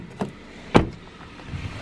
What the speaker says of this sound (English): the door opens and shuts just fine.